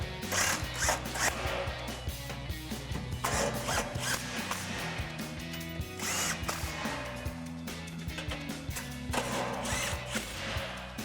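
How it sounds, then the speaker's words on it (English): Ratchet with an 18mm socket tightening exhaust bolts on a Jeep Gladiator JT dual exhaust install, giving a continuous run of close, rapid clicking and rattling strokes with brief pauses. "And now we can take an 18mm socket to tighten down our 4 bolts."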